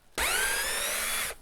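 A single short burst of a power drill spinning a screw out of wood, a loud whirring whine that rises slightly in pitch and stops after about a second.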